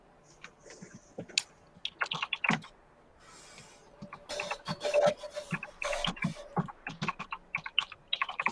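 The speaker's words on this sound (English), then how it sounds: "We hear you typing." Typing on a computer keyboard picked up by an open microphone during an online Pathfinder tabletop game session, with irregular bursts of quick key clicks, some pauses, and a faint steady hum underneath; no one speaks.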